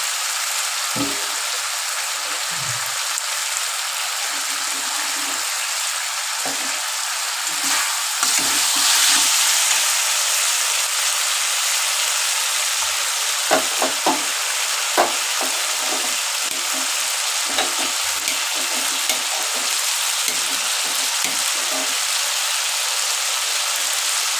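Fish curry masala for a katla fish curry with potato and green banana sizzles steadily in hot oil in a pan, with scraping stir strokes scattered throughout, close and continuous.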